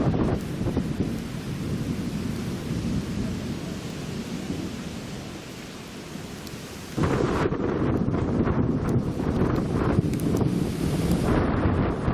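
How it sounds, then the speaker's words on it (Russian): A thunderstorm pours rain outdoors at a countryside resort, with a dense continuous roar, wind buffeting the microphone and a sudden louder surge of heavy rain partway through, with no talking. "Хотела дождика? Пожалуйста, тебя дождик."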